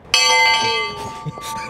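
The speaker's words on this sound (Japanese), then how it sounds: "幸せの鐘を鳴らすのは" A bright bell rings with a long shimmering sustained tone and is struck again softly near the end, with faint background voices.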